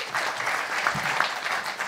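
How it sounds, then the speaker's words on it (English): Brief round of audience applause at a book club event after a speaker's remarks, a dense wash of clapping lasting under two seconds with no talk. "Let's give another round of applause."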